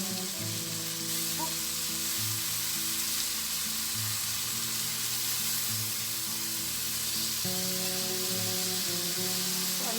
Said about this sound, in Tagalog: Kaya na-pan-fry na natin yung ating chicken